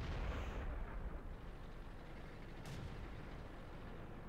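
A World of Tanks tank cannon booms out a single low, heavy shot at an enemy Indian Panzer, the blast rolling into a long rumbling decay with a faint crack partway through and no talk.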